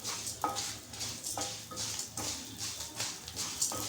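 Two red chillies and one green chilli fry in a pan, a steady soft sizzle broken by regular metallic taps and scrapes of a spatula against the pan, with no talking.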